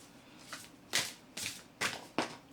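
Tarot cards being shuffled and handled, giving four or five quick soft riffling swishes in a rapid irregular rhythm, close and fairly quiet.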